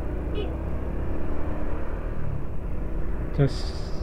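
Slow town-centre traffic jam on a street in Kepanjen, Malang, with cars edging along past vehicles parked at the roadside; a steady low rumble of engines and road noise runs throughout, with a brief louder vehicle sound near the end and talk over it.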